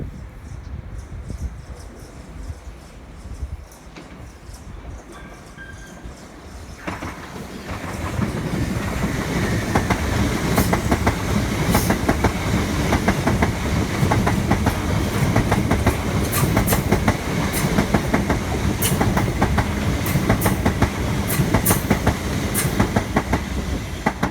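A train in the video game Train Sim World 2 rolls steadily with rhythmic clickety-clack of wheels on rails, growing louder after a few seconds and continuing as a dense mechanical rumble.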